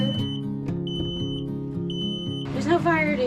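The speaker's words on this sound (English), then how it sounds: "We just set off the smoke detector for the first time." On a budget catamaran, a smoke detector goes off because of burnt butter, giving short high-pitched beeps repeated at a steady pace under talking.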